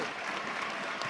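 Faint, distant applause from a water polo crowd as a player leaves the pool during a Serie A1 semifinal, a brief, even patter of clapping.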